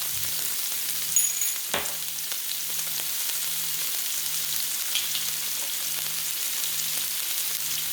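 Mushrooms frying in a snow pea and shrimp stir fry, a steady close sizzle with a few clicks and scrapes of stirring and a faint regular pulsing hum underneath.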